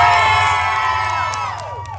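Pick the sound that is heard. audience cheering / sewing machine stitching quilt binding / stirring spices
audience cheering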